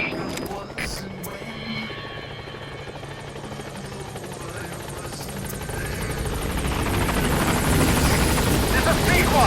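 Pequod helicopter arriving at a landing zone in Metal Gear Solid V, a continuous rotor thrum and whine that grows steadily louder as it approaches, with a voice speaking over it.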